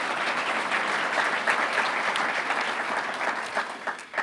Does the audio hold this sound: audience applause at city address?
yes